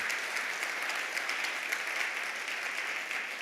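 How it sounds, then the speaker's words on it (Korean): A church congregation claps in welcome for newly arrived families, a steady, dense wash of applause held at even volume throughout with no voices standing out. "저기 환영의 박수 드리겠습니다"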